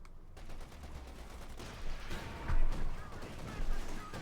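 Flak Panzer anti-aircraft fire in Company of Heroes 2, a dense, continuous rattle of automatic gunfire with heavier bursts swelling and fading under a busy battlefield mix, at moderate volume throughout.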